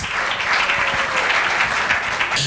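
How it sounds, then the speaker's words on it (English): Sustained audience applause at an evening awards dinner, a dense steady wash of many hands clapping for the judges, close and loud throughout. "A big and healthy hand clap for our judges."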